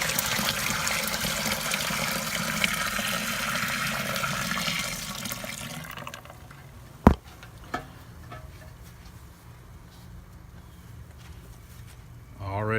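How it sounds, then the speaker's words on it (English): Maple porter wort pours into a bulk keg as a steady broadband liquid rush for about six seconds, then stops, leaving a quiet room with a couple of sharp clunks and soft handling noises. "I'm gonna pour the rest of our wort down in there"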